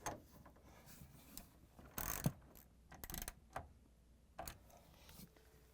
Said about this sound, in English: I'm going to use the 1/2-inch socket wrench to tighten them.